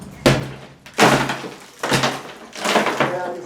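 Halligan bar and six-foot hook striking and tearing into ceiling lath during fire overhaul, four heavy thunking impacts each followed by a crackling splintering rasp, close and loud.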